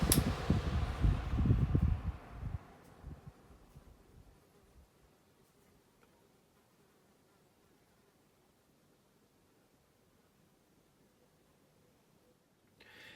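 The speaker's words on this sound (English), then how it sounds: "let's just see how either one of these two fans does in spin down" Two electric fans, one a Micromark, spin down together: a loud whirring rush at the start fades quickly over about three seconds into a faint lingering hum and near silence.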